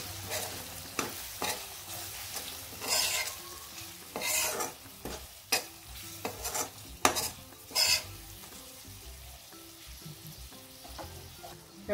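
Spices and vegetables are stirred and sautéed in a pan with red chilli powder and goda masala, a soft sizzle beneath intermittent scraping and clinks of a spoon against metal, loudest in several short bursts.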